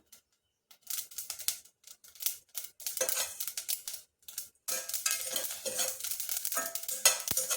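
Dense, rapid crackling and popping of mustard seeds in a hot pan, rising after a brief quiet start and continuing steadily without talk.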